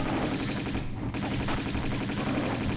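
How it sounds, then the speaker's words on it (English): Rapid gunfire from a fight with warriors in the game Tomb Raider 2, a dense, loud burst of shots that runs for the whole stretch with only a brief dip in the middle. "I'll try and shoot one of the warriors"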